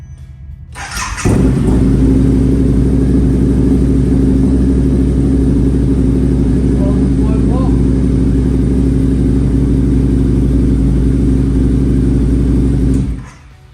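A Harley-Davidson V-Rod motorcycle engine starts and idles nearby, a loud, steady low rumble with a constant throb that holds for over ten seconds before cutting off, no talking heard.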